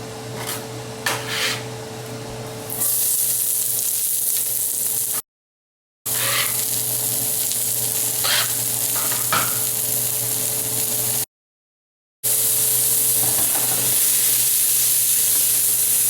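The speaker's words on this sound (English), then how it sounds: "I'm putting 2 ounces or less of clarified butter. Starting with my onions and garlic together." Onions and garlic sizzle and fry in clarified butter over high heat, with a loud steady hiss after a quieter start, a few scraping spatula strokes, and two brief gaps of silence.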